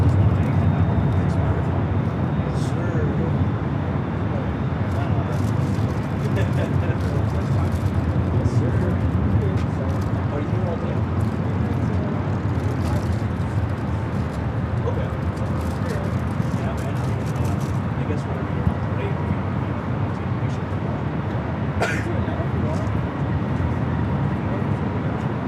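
A Philippine Airlines Boeing 777-300ER takes off at LAX, its engines a steady, broad roar held for the whole stretch, heard outdoors amid crowd noise.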